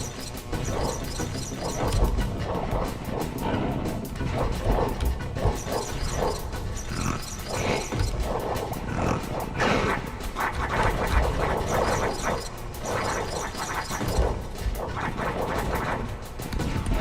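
Slogs, the vicious guard dogs of the video game Oddworld: Abe's Oddysee, bark and pant in repeated bursts over a constant game soundscape, loud and busy.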